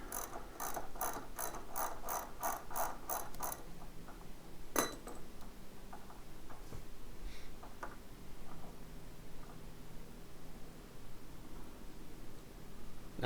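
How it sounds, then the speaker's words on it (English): A ratchet clicks in quick repeated bursts while removing the caliper bolts from the front forks of a Honda CBR 1000RR, followed by a metallic clink and a few softer scattered ticks, close and fairly quiet with no talking. "now I'm removing the bolts that hold the caliper onto the forks"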